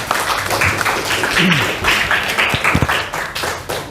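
Several people clap together in a brief round of applause, with talking voices mixed in over the clapping.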